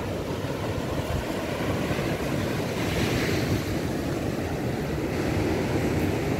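Surf rolls in continuously on Hastings Beach on the south coast of Barbados, a dense, steady wash of breaking waves mixed with wind buffeting the microphone, with no voices.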